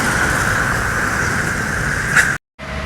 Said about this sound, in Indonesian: Ini ada lagi bus.